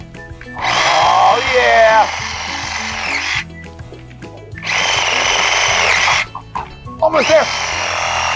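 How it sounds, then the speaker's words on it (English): A Sawzall reciprocating saw cuts in three loud bursts of buzzing, each lasting a couple of seconds with short pauses between, while a person talks briefly over it. "Oh, it's my sawzall. This is gonna work great."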